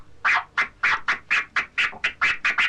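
Repeated turntable chirp scratches with crossfader cuts, a steady run of about a dozen sharp, evenly spaced squawking bursts, loud and alone.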